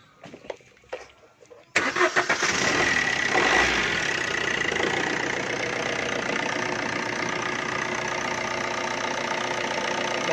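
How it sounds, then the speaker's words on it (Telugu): A Swift Dzire VDI diesel engine cranks and catches after a quiet moment, then settles into a steady, loud, close idle with a slightly rough, knocking undertone that runs to the end. "లైట్గా ఇంజిన్ నాయిస్ వస్తుంది."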